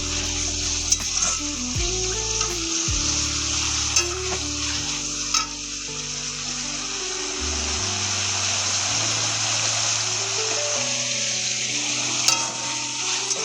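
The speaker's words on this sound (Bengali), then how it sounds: "হলুদটা দিয়ে বেশ খানিকক্ষণ 5 মিনিটের মতন এটাকে একটু ভেজে নেব" Turmeric and masala being fried and stirred in a pan for a chicken gravy, giving a steady, loud sizzle with scraping stir strokes throughout and no talking.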